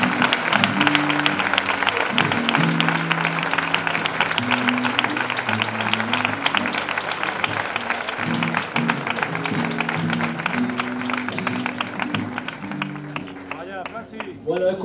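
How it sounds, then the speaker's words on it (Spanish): Sustained applause and clapping from a crowd at a village fair proclamation, continuous and fairly loud for the whole stretch, with music or sung tones running underneath and a few voices near the end. "un aplauso muy grande para ella"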